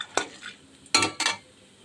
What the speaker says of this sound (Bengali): বড়িগুলো আমি এইভাবে ভেজে নিচ্ছি